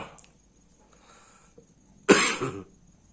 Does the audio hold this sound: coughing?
yes